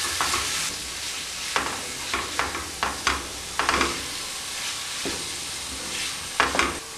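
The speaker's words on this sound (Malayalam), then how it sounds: "എല്ലാം കൂടെ മിക്സ് ചെയ്ത് കൊടുക്കുക" A spoon stirs a guava pickle mixture with chili powder in a hot pan, with a soft continuous sizzle broken by repeated scraping strokes at an uneven pace, close and clear.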